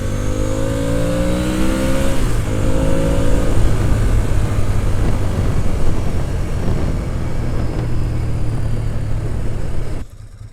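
A Ducati S4R motorcycle engine drones loud and steady while the bike is ridden, its pitch climbing over the first couple of seconds before settling into an even cruise, then cutting off abruptly at the very end.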